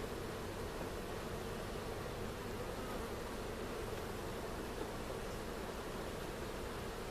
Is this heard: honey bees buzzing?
yes